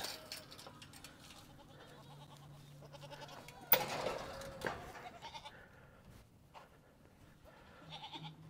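Goats on a homestead bleat a few times at moderate distance in a quiet setting, with one sharper burst of noise in the middle.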